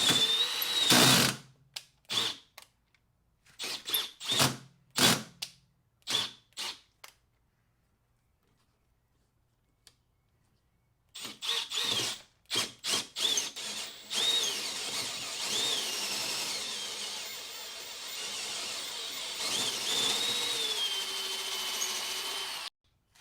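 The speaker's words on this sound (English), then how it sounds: "So once I drilled out the correct diameter hole" A drill slowly drills out a hole in a rusted hatch hinge, running in short bursts with gaps of silence, then spinning steadily for a longer stretch, close by and moderately loud.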